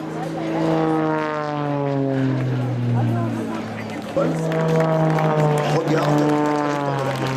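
Aerobatic propeller airplane at an air show in Gimont, engine throttling up with a steady drone and rising harmonic whine, loud and close, a brief dip before the power surges again, under a voice talking.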